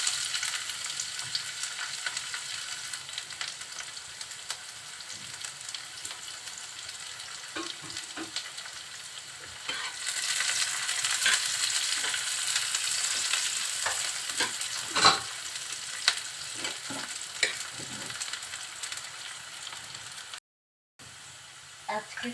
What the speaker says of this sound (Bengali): তেলের ভিতরে পেঁয়াজ কুচি আর একটা রসুন কুচি দিয়ে দিচ্ছি।